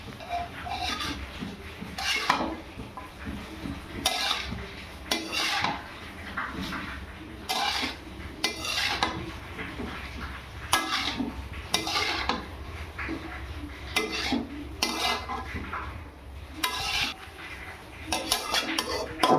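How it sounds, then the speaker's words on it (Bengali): Kolmi greens are stirred with salt in a pan, a spoon scraping and rubbing against the metal in repeated strokes, with occasional clinks and a quiet room hum between them. "এবার এটাকে ভালো করে নেড়ে নেব"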